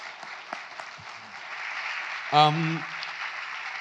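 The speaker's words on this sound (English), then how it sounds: "Please, a round of applause for Paul Thomas Anderson before we wrap it up." Audience applause fills a Q&A session with a film director, a steady broadband clatter of clapping throughout with a brief swell of voices or cheering in the middle.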